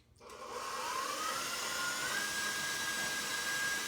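An electric mixer whirs steadily on high speed as it beats sour cream donut batter, a continuous loud motor drone that starts abruptly and holds with a faint rising whine throughout.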